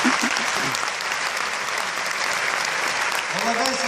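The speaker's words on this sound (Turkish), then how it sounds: "alkışlıyorum" An audience at a Turkish live event applauds in steady, dense clapping that fills four seconds, with a voice briefly audible at the start and near the end.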